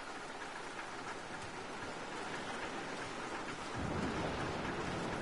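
Rain pours steadily in a thunderstorm in Mafia Definitive Edition, a dense hiss with a low thunder rumble swelling louder toward the end, with no voices.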